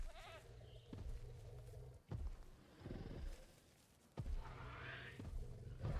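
A goat in a park-building video game bleats several times with long wavering cries, separated by short pauses, loud and close.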